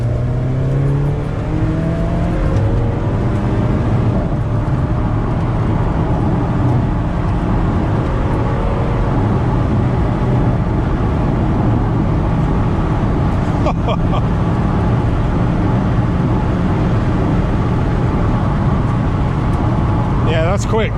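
An Alfa Romeo 4C sports car engine drones steadily and loudly under acceleration on an empty airfield runway, with a rising rev note early on and road and wind roar throughout, while people talk over it.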